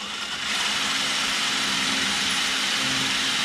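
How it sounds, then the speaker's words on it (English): A power drill bores into a broken bolt, a steady continuous whirring grind that starts abruptly and holds constant, close and fairly loud with no talking. "how it's drilling right through the center there"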